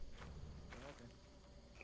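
Bees buzz around a hive in a video game, a faint, steady insect drone that holds through the short stretch with no clear breaks.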